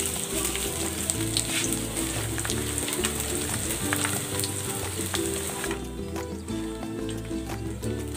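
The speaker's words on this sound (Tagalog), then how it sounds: "Ipiprito ko muna itong dilis." Dried anchovies (dilis) crackle and sizzle in a pan of hot oil, a dense, steady frying hiss with scattered pops running throughout.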